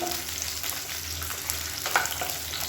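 Onions and dried red chillies sauté in a hot pan for a tomato-free chutney, giving a steady, close sizzle and crackle with faint stirring throughout.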